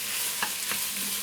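Chopped onion and bell pepper sizzle steadily in a hot pan while shakshuka is being cooked, with a couple of brief scraping stirs cutting through the constant frying hiss.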